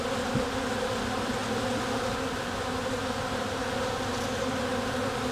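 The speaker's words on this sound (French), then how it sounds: "il y a énormément d'abeilles qui sont probablement pas de cette ruche-là qui viennent" Dense swarm of honey bees hums steadily around an open beehive, a loud, unbroken close-up buzz with no voices.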